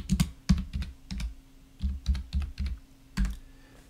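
Someone types a short search on a computer keyboard, giving a close, clicky run of uneven keystrokes in small clusters with brief pauses.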